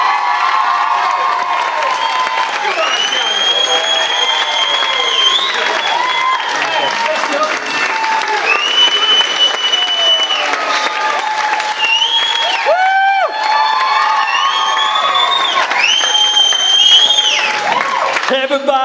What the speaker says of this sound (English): I want her to have the loudest round of applause of the day.